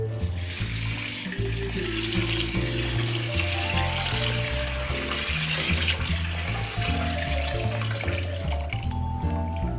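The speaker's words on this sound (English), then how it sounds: "emptied your black eyed peas, you're gonna add your water." Steady stream of water pouring into a pot of black-eyed peas, a continuous splashing hiss with music playing underneath.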